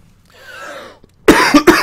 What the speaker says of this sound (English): have a little wheeze and a little cough